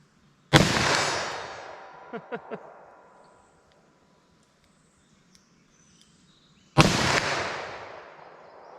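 .327 Federal Magnum snub nose revolver fired at an outdoor range: two loud, sharp shots several seconds apart, each with a long echoing decay, plus a trio of faint distant knocks between them.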